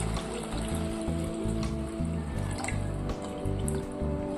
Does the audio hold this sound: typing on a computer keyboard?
no